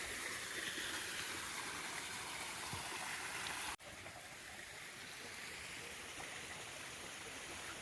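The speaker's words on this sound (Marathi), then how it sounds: "भरपूर पाऊस पडल्यामुळं तो असं पाणी येतो" Water gushes and rushes steadily over rocks after heavy monsoon rain in the Konkan countryside, a constant broadband roar with no voices.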